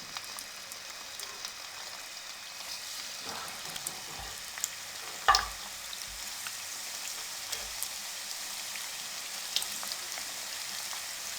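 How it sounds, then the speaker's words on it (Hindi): Chicken spring rolls deep fry in hot cooking oil, a soft continuous crackling sizzle at low level, with one brief louder clatter partway through. "कुकिंग ऑयल अच्छे से गर्म हो चुका है। अब इसमें हम इनको फ्राई करेंगे।"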